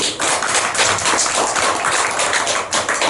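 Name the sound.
congregation clapping at church anniversary service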